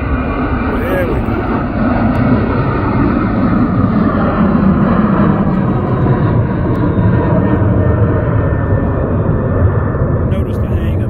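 A Boeing 767 airliner landing at Houston's IAH airport at sunset gives a loud, steady, broad engine roar that holds throughout, with a voice talking over it.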